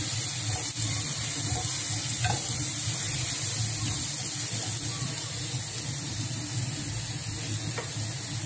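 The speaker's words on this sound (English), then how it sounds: "Frying na tayo guys. Nilagay ko na ang" Steady sizzling of garlic frying in a hot pan, constant and close, with occasional faint clicks of a utensil.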